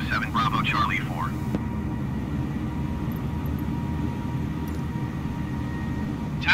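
A steady low engine drone from an aircraft taxiing to general aviation parking at Los Angeles International Airport in Microsoft Flight Simulator 2020, continuous and even throughout, with a brief radio voice at the start.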